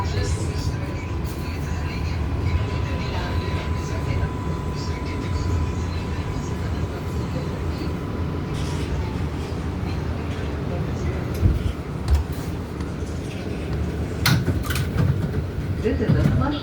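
Interior ride on a New York subway 7 skip-stop train of R188 cars bound for Flushing–Main Street, a steady low rumble and rolling rail noise with a voice heard over it and sharper clatters later.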